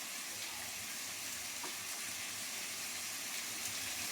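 Prawns go one by one into a hot pan of oil for a Bengali kosha-style dish, giving a steady, even hiss of sizzling with no voices.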